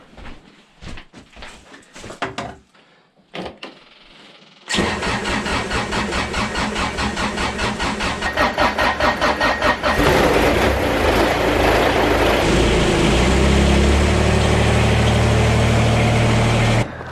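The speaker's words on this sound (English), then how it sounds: "I gotta get the Kubota warming up." A Kubota tractor engine on a cold winter homestead cranks after a few faint knocks, then catches and settles into a loud, steady, close idle that grows rougher and denser toward the end.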